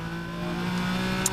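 A Porsche 718 Cayman GT4 race car on a hot lap gives a loud, steady engine drone from on board that climbs slightly in pitch, with no talk over it.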